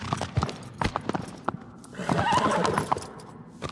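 A horse in the Shadow of the Colossus video game gallops with quick, close clip-clopping hoofbeats, then lets out a loud whinny midway before the hooves continue.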